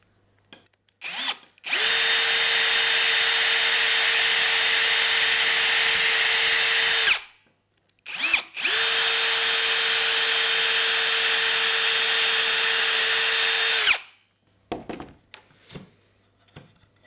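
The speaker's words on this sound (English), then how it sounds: "drill through here." A power drill whirs steadily in two long bursts of about five seconds each, loud and close, with a brief pause and a few clicks between them.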